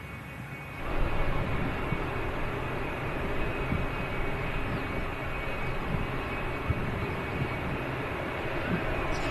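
A Boeing 777's jet engines roar steadily across an airfield, a loud, broad, continuous rumble that holds without pause from start to end.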